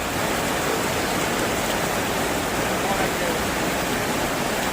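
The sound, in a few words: seasonal stream flowing fast after heavy rain, Rishikesh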